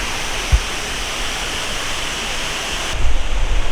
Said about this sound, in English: This one has like multiple different waterfalls in one